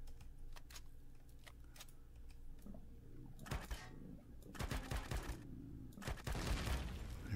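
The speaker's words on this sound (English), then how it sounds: "I'm shooting everything but what I'm aiming at" Gunfire from a weapon in the sci-fi game Empyrion, with scattered sharp shots early, then denser bursts of rapid firing in the second half, close and fairly loud over a steady background hum.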